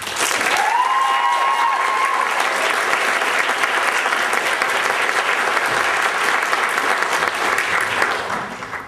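Sustained, loud audience applause at a 2014 Museology graduate program graduation ceremony welcoming Jessica Luke to the stage, steady clapping from a full room lasting several seconds before tapering off.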